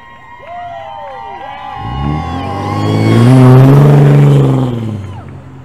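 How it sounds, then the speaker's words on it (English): A sedan drives past on a downtown street, its engine noise swelling from faint to loud and then easing as it goes by, mixed with the murmur of a nearby crowd. "That one over there was a sedan."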